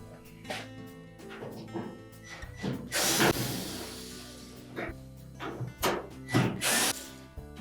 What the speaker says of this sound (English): Then we'll remove the screws that secure the top of that front panel to the support piece.